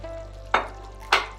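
Chicken being sautéed in a pan, a soft low sizzle broken by two quick, sharp stirring scrapes of a utensil about half a second apart, close up with no talking.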